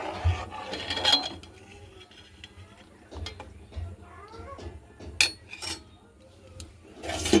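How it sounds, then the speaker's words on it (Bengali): A spoon scrapes and rubs inside a pot as papaya and mung dal khichuri is stirred, a few soft irregular scrapes with occasional louder clanks against the rim. "তো অল্প আমি একটু নেড়ে দেব।"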